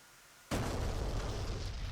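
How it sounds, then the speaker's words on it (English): A bomb bursts on a target building in the DCS World flight sim, F/A-18C Hornet strike: sudden loud boom after near-silence, then a sustained rumbling roar that keeps booming without fading. "we'd get a good look at the bomb going directly in on the target building"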